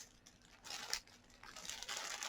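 A crinkly textured toy ball squeezed by hand, giving a few soft rustling crinkles in short bursts, faint and close.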